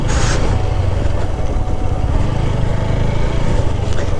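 Loud, close engine of a motorcycle arriving at Mawa ghat, a steady rumbling drone that holds throughout with little change.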